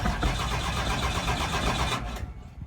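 A 1990 Dodge square body pickup with a 12 valve diesel cranks and turns over. The engine churns in a loud, dense, rhythmic run for about two seconds, then cuts off abruptly, leaving near silence.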